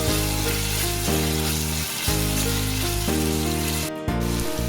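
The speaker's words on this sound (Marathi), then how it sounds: "मी कढईत कांदा आणि टोमॅटो परतून तेलात परतून घेते" Onion and tomato frying in oil in a kadai, a loud, steady close sizzle broken by brief stirring pauses, alone without talk.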